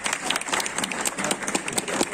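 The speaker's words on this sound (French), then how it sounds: "On peut l'applaudir s'il vous plaît." Audience applause at a New Year's Eve show, a dense stretch of clapping from a crowd that stays steady and fairly loud for about two seconds, with no voice over it.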